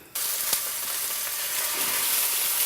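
Red mullet fillets frying in a little olive oil in a Tefal non-stick pan, a steady bright sizzle that starts abruptly and holds close and even throughout, with a brief sharp crackle early on and no voices.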